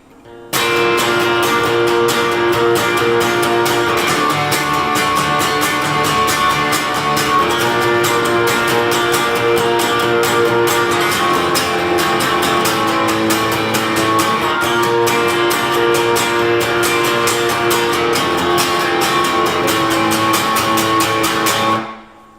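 Continuous strummed guitar chords at a steady driving rhythm, loud and unbroken, played alone for over twenty seconds.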